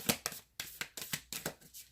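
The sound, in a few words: deck of cards being shuffled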